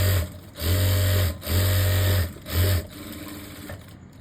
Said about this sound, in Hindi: और ये किनारे की सिलाई लगाते हुए आ जाएंगे।